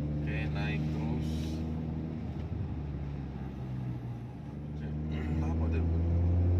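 A used Hyundai i20 engine pulls uphill in second gear at around 1500 to 2000 rpm, giving a steady, close low drone throughout with someone talking over it.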